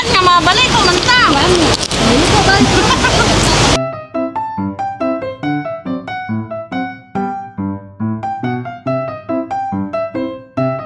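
Heavy rain pours loudly in a steady wash for a few seconds in the Philippines, then cuts off abruptly and gives way to a plucked, rhythmic tune.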